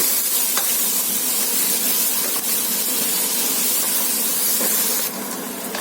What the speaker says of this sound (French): vos oignons ils sont en train de suer